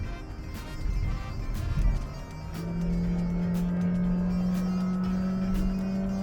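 A Honda City hybrid sedan, engine and electric motor together, accelerates hard from about 100 km/h, its steady rising drone loud and close from inside the cabin with road noise beneath and no talking.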